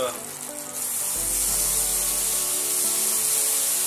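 Shallots drop into a hot pan where rabbit liver was just fried; after a quiet start a loud, close sizzle bursts in and holds steady and bright to the end.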